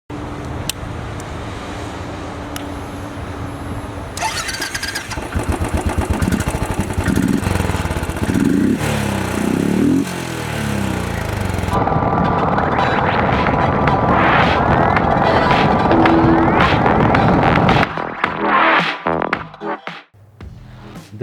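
Royal Enfield Thunderbird 500X, a single-cylinder 500cc motorcycle, on the road with a loud steady engine drone and wind rush that shifts pitch through gear changes and acceleration, then fades near the end; no speech.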